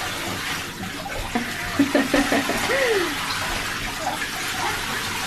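Steady hiss of shower water running indoors, with soft faint voices and small knocks or movements heard over the constant spray.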